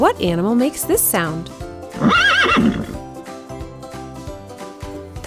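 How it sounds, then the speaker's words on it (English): A horse gives a loud, shrill whinny that rises and falls, followed by a second neigh, with a voice speaking before it and soft music underneath. "That's right, it's a horse."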